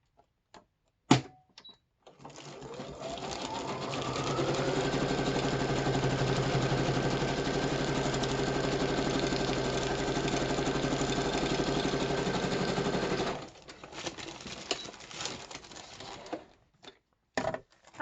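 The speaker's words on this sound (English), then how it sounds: "So let me sew this up right now first." A sewing machine stitches through paper ephemera. It runs close and steady for about ten seconds, with its motor hum rising in pitch as it speeds up. Brief clicks and handling noises come before and after the stitching.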